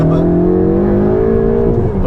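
A Ferrari 488 GTB accelerating hard, its engine note loud and close with a steadily climbing, sustained roar that holds strong for the whole stretch.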